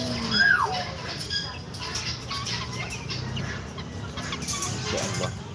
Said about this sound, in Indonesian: Ini ayam hutan nih teman-teman, ayam hutan.